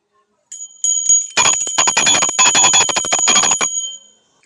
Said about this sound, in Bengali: এই ঘন্টাটা বাজিয়ে তুলে দিই।